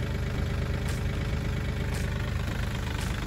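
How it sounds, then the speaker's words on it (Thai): A Kubota L3218 tractor's diesel engine idles close by with an even, chugging low throb and a few faint clicks on top, and nobody speaks. "เดี๋ยวลองดูเครื่องยนต์นะครับเครื่องติดง่ายนะครับ"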